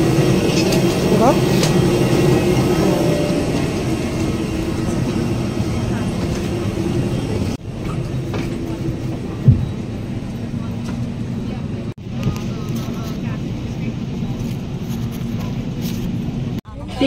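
A steady, loud, broadband roar fills an airplane cabin during takeoff, droning continuously with a few brief dips and cuts, while voices are heard over the engine noise.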